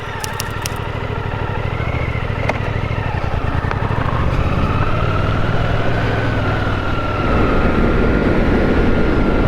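A Suzuki GSX-8S motorcycle on the move, its engine a continuous drone that shifts in pitch as the bike runs up through the revs, with wind roar rising toward the end and nobody speaking.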